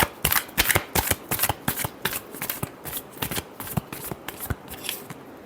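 Tarot cards riffled and shuffled in a rapid, uneven run of crisp flicks and snaps, close and fairly loud, with no voice over them.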